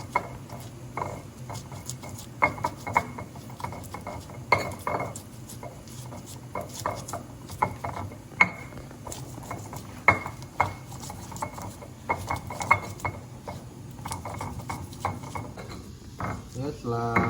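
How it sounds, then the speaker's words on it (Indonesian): Chili peppers are pounded and ground in a stone ulekan mortar for a bakso aci broth, giving a steady run of close knocking and scraping strikes with a fairly even rhythm throughout. "Ini kita ulek cabainya sampai halus"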